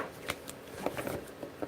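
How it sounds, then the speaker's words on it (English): Tarot cards are shuffled by hand, giving soft, quiet flicks and riffles in irregular bursts with no talking. "I keep shuffling cards"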